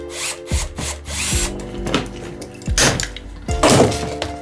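A power drill with a metal bit, drilling to fit a bumper on a snowboard, spins up and stops in several short bursts, with knocks and thunks from the work between them, close by.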